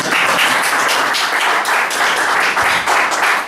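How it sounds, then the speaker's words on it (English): Open mic crowd applauding loudly and steadily, dense sustained clapping from many hands close by, with a few brief cheers mixed in. "give it up for yourselves because you guys are a great audience and clap really loudly"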